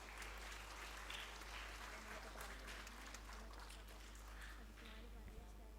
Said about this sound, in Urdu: تالیاں بجنی چاہیے.